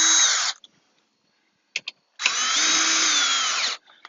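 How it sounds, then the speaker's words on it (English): A cordless power drill backs out screws during a Jeep-style hard top to soft top swap, a short whir, a couple of quick taps, then a longer steady whine, loud and close with no talking. "I'm just doing the drill for the sake of this video going just a little bit quicker."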